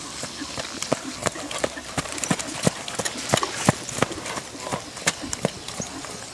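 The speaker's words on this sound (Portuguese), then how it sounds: "Igor dos Pinhais, cavalo início de treinamento." Hooves of a tall chestnut Lusitano stallion in early training clip-clop in a steady, rhythmic series of sharp, fairly close strikes over a light background hiss.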